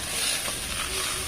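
Potatoes added to a pan of fried spices sizzle in a steady, bright hiss, close and continuous throughout, with a faint stirring scrape and no talk over it.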